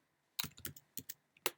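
A short burst of typing on a new computer keyboard: several crisp key clicks in an uneven rhythm, close and clear against silence.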